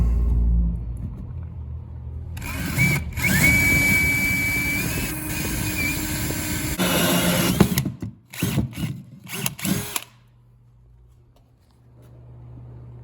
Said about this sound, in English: I'm gonna go ahead and just drill this spot out in the cabinet for my cord.